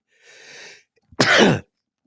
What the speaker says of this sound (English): Had to sneeze.